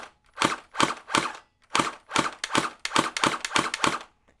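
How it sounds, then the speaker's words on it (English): Gel Blaster Surge XL toy gel blaster fired in single shots on full-auto mode, with eleven sharp, snappy pops in an irregular rhythm, close and loud with short silences between. "In the full auto mode, it's still easy to shoot single fire."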